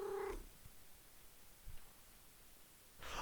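A cat in a hat hidden under a desk in the video game Dialtown makes brief, faint purring and rustling sounds. Short louder bursts come at the start and end, with near silence in between.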